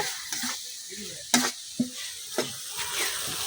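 Potatoes and flat beans coated in spices sauté in a pan, giving a quiet, steady sizzle punctuated by several sharp clinks and scrapes of a spatula against the metal as the mixture is stirred; no one speaks.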